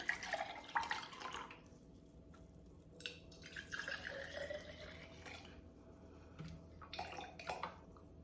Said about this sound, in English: And now what I'm going to do is I'm going to pour vinegar into each cup.